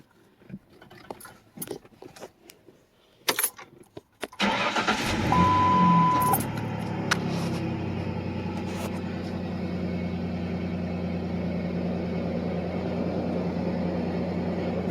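A 1999 Ford Ranger's 3.0L engine fitted with a K&N cold air intake cranks over from cold and catches, then settles into a steady, loud idle that runs on evenly, after a few clicks and knocks at the start.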